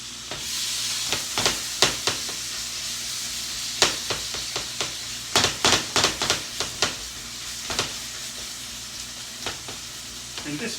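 Beef frying in a pan sizzles steadily up close, broken by repeated sharp bursts of crackle and spatter as the meat is stirred, with no voices over it.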